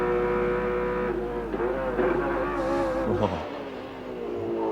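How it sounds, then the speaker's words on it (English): A Chevrolet touring car engine in the 1993 Bathurst 1000 Top 10 Shootout revs hard from an onboard camera, a loud harmonic roar rising and falling through gear changes, then dropping briefly before building again. "You'll be able to hear the engine as he works it."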